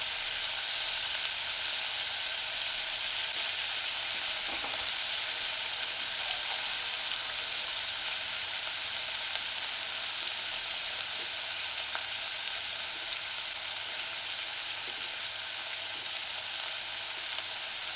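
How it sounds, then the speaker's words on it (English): Cubed luncheon meat (Spam) sautéing in a pan on a medium-low stove, a close, steady, even sizzle with faint crackles that runs unbroken the whole time. "Allow it to saute. Stove gauge is on 4, medium-low."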